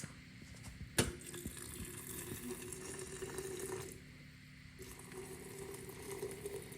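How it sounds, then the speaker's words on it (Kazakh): Boiling water is poured from a kettle into glass jars packed with cherries, a steady splashing pour opening with a sharp clink, pausing briefly, then resuming. "кәдімгі сақырлап қайнап тұрған суымызды, қайнаған суымызды құямыз"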